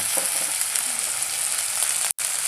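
Dried fish sizzles loudly in oil with onion, garlic and green chili, a steady dense crackle that drops out briefly near the end and then comes back.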